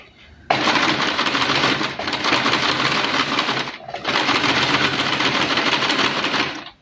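A sewing machine stitches a ruffle of heavy fabric for a cushion cover, running loud and close in long continuous bursts with two brief pauses, a dense mechanical whir held at a moderate speed.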